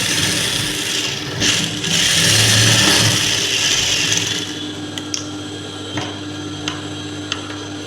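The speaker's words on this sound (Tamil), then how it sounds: "இப்போவே நம்ம ஒரு மூணு தையலை போட்டு எடுத்துக்கலாம்" A sewing machine stitching a sleeve onto a blouse whirs steadily and loudly for about four seconds, then stops, leaving a quieter hum with a few faint clicks.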